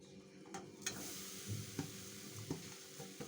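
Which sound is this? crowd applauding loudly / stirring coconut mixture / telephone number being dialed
stirring coconut mixture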